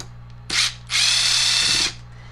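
A power drill backs Phillips screws out of a Harbor Freight chainsaw during a teardown, with a brief burst of whirring and then a longer steady run of about a second, close and loud, with no talking.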